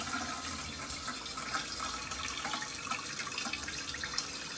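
A toilet tank refilling steadily after a new fill valve was installed, a continuous close rush and hiss of water running into the tank at even volume throughout, with no talking.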